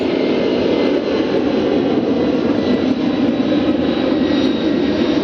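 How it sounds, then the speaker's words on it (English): A FedEx Airbus heavy jet powering down the runway for takeoff at Memphis, a loud, sustained roar of jet engines that stays constant and close throughout. "he's just taking up a very, very small portion of that runway for liftoff"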